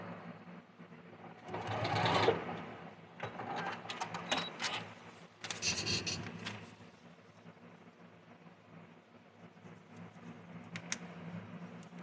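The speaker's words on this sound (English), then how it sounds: "I have a treadle machine." A treadle sewing machine stitches a quilt in a few bursts of rapid mechanical clatter that speed up and ease off, fairly quiet and close, with no talking.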